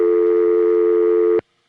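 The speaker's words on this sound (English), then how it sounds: "Dial 9. That's an outside dial tone." A steady, loud outside-line telephone dial tone from a 1970s phone system holds a continuous pitch, then cuts off abruptly near the end, leaving silence.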